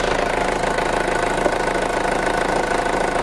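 A Ford Ranger engine that has trouble gaining revs runs steadily at moderate speed, a continuous mid-pitched mechanical drone with a faint knocking texture, close and constant throughout.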